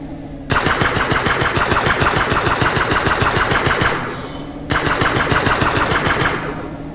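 Rapid automatic gunfire in the space-survival game Breathedge, two sustained bursts of dense, evenly spaced shots, loud and close, with a short pause between and a brief ringing tail after each burst.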